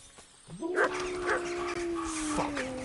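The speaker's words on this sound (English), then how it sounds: "Why do I hear barking?" Wolves bark and yelp in the medieval video game Kingdom Come: Deliverance II, several short calls over a steady droning backdrop, moderately close, with no speech.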